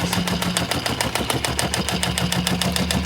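A Dematron DM-2212 heavy duty webbing sewing machine, a programmable unit that sews and trims, runs with a fast, even mechanical clatter and an underlying motor hum, loud and close, with no talking.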